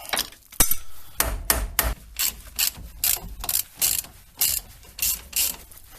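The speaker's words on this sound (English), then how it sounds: "Next I'm gonna break some bolts loose." A ratchet wrench works loose a 10mm ABS sensor bolt on a car, sounding as a series of sharp, close metallic clicking bursts in an uneven rhythm.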